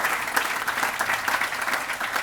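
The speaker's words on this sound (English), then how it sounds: "Let's give them a round of applause" Guests at a ribbon-cutting ceremony for the Leggett Building at Montgomery College give a round of applause: thick, continuous clapping with slight swells, steady from start to finish.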